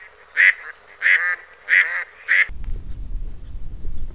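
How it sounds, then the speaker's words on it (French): Four loud, nasal mallard duck quacks ring out in an even rhythm close by, then a low rumbling background noise takes over. "Là on a des groupes de canards, colverts"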